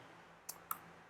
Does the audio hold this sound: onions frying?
no